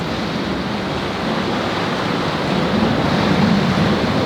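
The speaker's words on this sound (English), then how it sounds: "that water of the Thames lapping against the wall" Thames river water lapping steadily against an embankment wall, a continuous broadband wash with a gentle swell that grows slightly louder toward the end, no voices.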